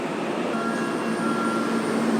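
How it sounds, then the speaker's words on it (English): A train rolls into a station in Japan, giving a steady, loud rumble with a thin high whine running through it and no voices. "Wow, that's a nice train."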